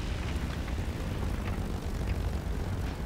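A Bf 109 F-2 propeller fighter lands in the War Thunder video game, with a steady, loud engine and airframe drone rumbling continuously throughout and no voices.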